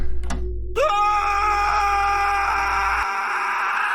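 A man shrieks awake from a nightmare as a horror-story sound effect: a sudden rising, strained scream with a low rumbling bed beneath, holding loud for a few seconds before the rumble drops away.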